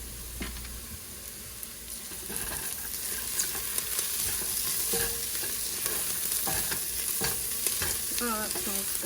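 Cumin and crushed oregano go into a hot pot for chicken tortilla soup, with quiet sizzling and a few scraping stirs of a spoon, faint and close, no talking.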